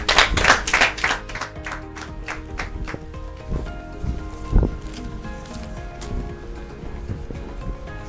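A studio audience at a children's quiz show claps for a winner, a loud burst of clapping that quickly fades into a quieter room with scattered rustling and a thump.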